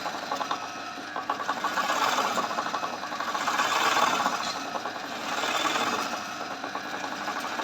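An embroidery machine sews a rice stitch with a fast, steady mechanical whir and chatter that swells and eases in gentle waves, close and alone.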